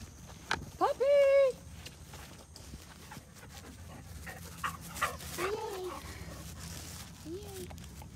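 A puppy whimpers and yips with a sharp whine early on, then softer whimpers and a few small barks follow amid footsteps and rustling, with a person speaking nearby.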